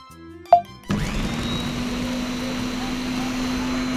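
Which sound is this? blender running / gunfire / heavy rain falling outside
blender running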